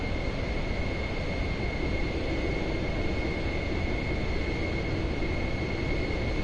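Pilatus PC-24 business jet in Microsoft Flight Simulator 2024 on PS5, a steady, unbroken engine roar with a constant high whine, loud and even throughout with no talk.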